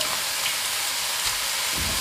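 Shredded potato and carrot stir-fried in a hot wok with Sichuan peppercorn, scallion, ginger, garlic and dried chili, a steady loud sizzle with brief scraping bursts as the strands are tossed.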